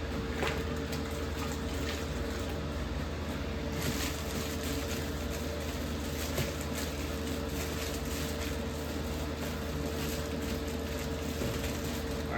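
Soapy water sprayed over the inside of a mushroom grow tent, a steady close hiss of spraying with a faint hum beneath and occasional bursts and pauses.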